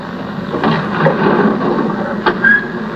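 The original studio sound for a Doctor Who door is a dull, rough scraping rumble lasting a few seconds, with a couple of brief knocks and a faint squeak near the end.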